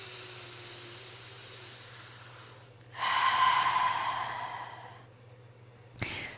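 Breathing for a guided deep-breathing exercise: a soft, airy breath first, then a long, louder rushing breath of about two seconds that tapers off, and a sharp new intake near the end.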